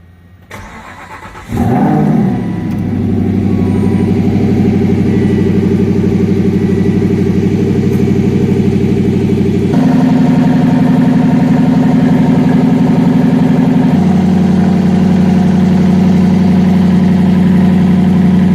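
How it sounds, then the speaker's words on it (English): An Aston Martin engine cranks and fires up loudly, flaring briefly before settling into a deep, steady close-up idle that shifts pitch slightly twice as it settles, with no talking. "Let's start up the Aston Martin."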